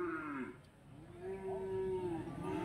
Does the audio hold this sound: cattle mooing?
yes